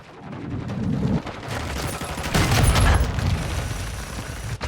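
Rapid bursts of gunfire from the player's weapon in the video game Modern Warfare 2, loud and close, firing in dense automatic strings with short gaps between volleys.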